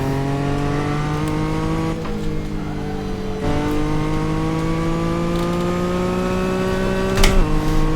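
A turbocharged race car engine holds a steady high-rpm drone through a 1990 Le Mans qualifying lap, dipping briefly at each gear change or lift before climbing again, loud and close throughout with no talk.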